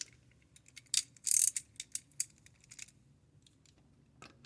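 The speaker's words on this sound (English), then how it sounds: "then you tighten the bolts there. Use sockets." Bolts being tightened with a socket ratchet while mounting a bench grinder to a workbench: a burst of quick, close clicking pawl strokes over about two seconds, then quieter scattered ticks.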